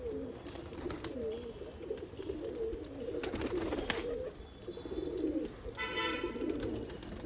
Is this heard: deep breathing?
no